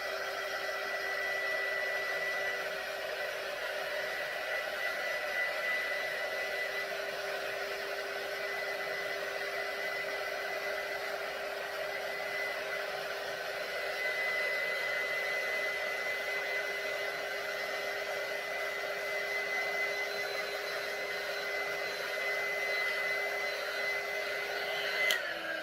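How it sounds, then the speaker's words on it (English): A heat gun blows steadily to dry chalk paint on a pumpkin, a constant airy whir with a faint tonal whine that holds at an even level throughout. "I do have my heat gun here. So I'm gonna go ahead and get the pumpkin just a little bit more dry"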